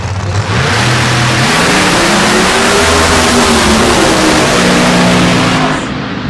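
A Pro Mod drag race car engine, freshly fitted with a new center section, revs loud and continuous at an Elite 16 race in Texas, its pitch climbing, dipping and climbing again for several seconds.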